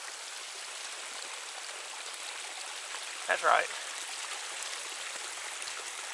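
Rainwater runs down the Appalachian Trail in the Smoky Mountains like a creek, a steady faint broadband wash of flowing water with a brief spoken remark in the middle.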